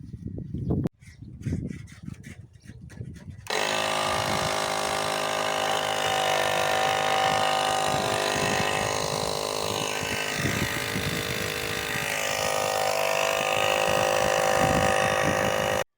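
Small walk-behind tractor engine driving a sprayer pump to build pressure, a few brief clanks and knocks at first, then a loud, continuous engine drone close by that runs to the end.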